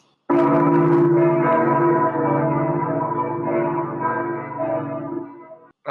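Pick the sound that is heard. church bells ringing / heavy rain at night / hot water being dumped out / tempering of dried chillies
church bells ringing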